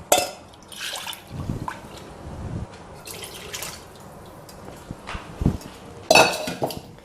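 A spoon knocks and scrapes inside a pot of araithu vitta sambar during stirring, giving a few irregular metallic clinks and wet sloshing sounds, close by and with no talking.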